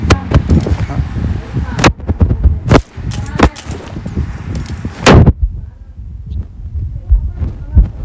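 Gunfire in the battle royale game BGMI: sharp loud shots crack out irregularly over a low rumbling background, with several spaced bursts and a brief heavier volley near the middle.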